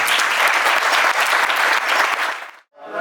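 A conference audience at an olive grove event in Almedinilla breaks into steady, full clapping that holds for over two seconds, then drops out abruptly before a brief faint patter returns.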